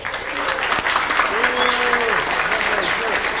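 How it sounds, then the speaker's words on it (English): A panel audience at a hacker conference claps for the AV technician, a steady wash of applause with voices and a whistle-like tone rising over it. "give him a round of applause there"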